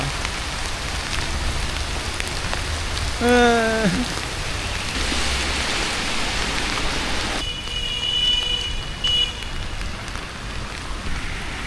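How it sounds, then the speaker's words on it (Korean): Heavy rain pours steadily on surfaces at night in Shanghai, a dense, continuous hiss close around, with a brief passing tone and some background street noise mixed in. "왜 또 이렇게 비가 쏟아지냐?"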